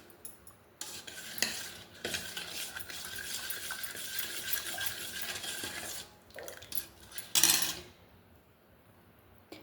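Organic jaggery powder stirred into cow milk in a pot, a steady soft scraping and swishing of a spoon with a few light metallic clinks, fairly quiet and uninterrupted by talk.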